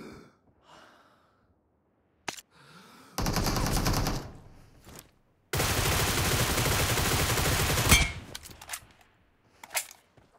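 Bursts of rapid automatic rifle fire from Groza and AKM weapons in a shooting video game, with long rattling volleys, single cracks and short pauses between, plus breathing in the quiet gaps.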